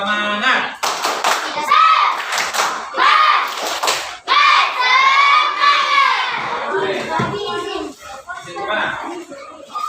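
A classroom of children claps in rhythmic patterns and shouts together loudly, with bursts of group chanting and cheering close by.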